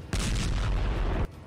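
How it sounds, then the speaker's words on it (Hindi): A loud, sustained explosive blast at the Zaporizhzhia nuclear power plant, a single heavy boom with rumbling roar lasting over a second before cutting off abruptly. "जिसमें ज़पोरिज़िया के परमाणु प्लांट में हुए धमाके और धुएं को दिखाया गया है।"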